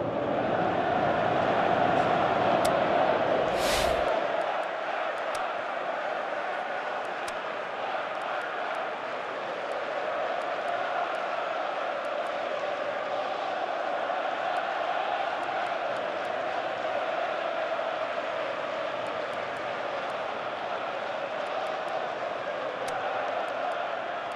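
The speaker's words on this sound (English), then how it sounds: "you can hear how the crowd are reacting to this too" A stadium crowd roars steadily throughout a PES 2018 football match between Chelsea and FC Barcelona, as a broad, continuous wash of noise that swells briefly early on and then settles into a sustained murmur.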